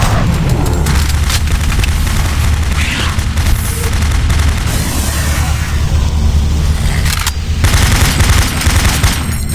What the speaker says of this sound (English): Automated turret guns online.